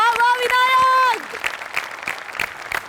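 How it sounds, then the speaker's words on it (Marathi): A studio audience at a Marathi comedy show breaks into applause as a drawn-out voice fades, then keeps up lively, scattered clapping with some individual claps ringing out. "विनायक पुरुषोत्तमसाठी प्रचंड टाळ्या"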